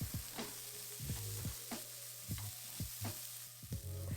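Onions and garlic stir-frying in oil in a wok, a soft sizzle punctuated by rhythmic scraping strokes of a spatula about every half second.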